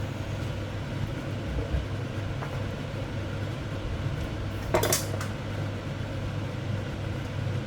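A ladle scoops sour curry with winter melon and fresh shrimp from a pot, a few soft clinks and one brighter metallic scrape against a steady low kitchen hum.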